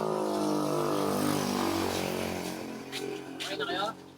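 A motorcycle engine revs near and loud, a buzzing harmonic drone that wavers and fades, with people talking over it toward the end.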